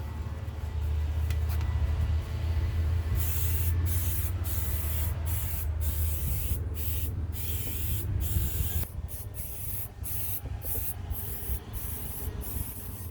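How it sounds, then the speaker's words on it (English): Silicone aerosol sprays onto an outboard motor in a long continuous hiss, followed by a series of short, rapid bursts, close up over low background rumble. "I'm going to spray a little bit on the front so the metal parts don't get rusted"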